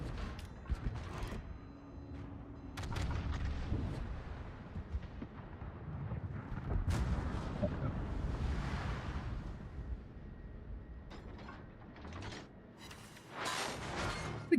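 Naval guns firing in World of Warships, from Dutch cruiser guns in a match with the Irresistible and Willem de Eerste: several booming, rumbling salvos spread across the stretch over a constant roar of sea and wind, with no talk.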